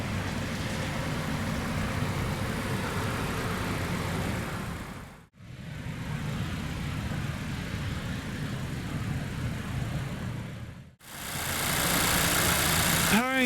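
A 2017 Mazda CX-9's 2.5 liter turbocharged 4-cylinder engine runs steadily at a close, even level in three stretches split by two brief dips, with a voice talking over it.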